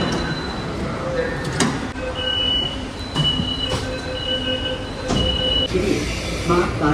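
A Delhi Metro train rumbles along with wheels squealing on the rails, steady loud noise with a few sharp tonal squeals.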